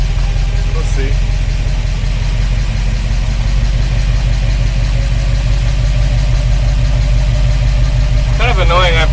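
A 1953 Oldsmobile Rocket Super 88 barn-find V8 idles steadily and loudly up close, its low rhythmic throb constant throughout, with a brief mechanical clatter near the end as the transmission shifts.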